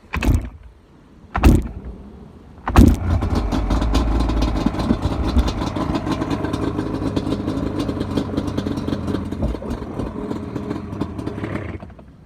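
A long-idle engine is choked and cranked in a few short bursts, then catches and settles into a steady, close, rough running note that holds to the end.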